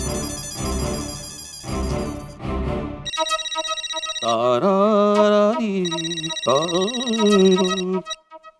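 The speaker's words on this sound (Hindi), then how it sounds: "मैं भिड़े को फोन करता हूँ" An electronic phone ringtone chimes repeatedly in a melodic pattern, fairly loud and close, with a voice heard briefly near the start.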